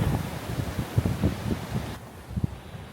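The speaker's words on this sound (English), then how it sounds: "this wind is making it really cold" Strong, cold wind during Storm Amy at a carp-fishing spot, a steady close rumble and buffeting on the microphone with irregular gusts and rustling, no talking.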